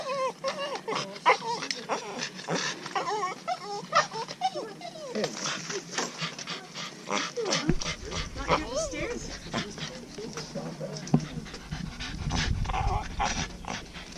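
A dog on a hike near Denver, Colorado, panting and whimpering close by, with light rustling outdoors and a person talking over it.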